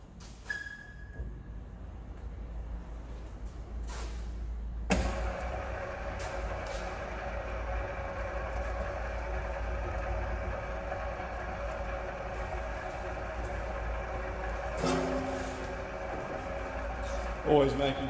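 A flywheel grinding machine spins up with a sudden mechanical start, then holds a steady whining hum with a few sharp clanks and hisses, while a person talks over it.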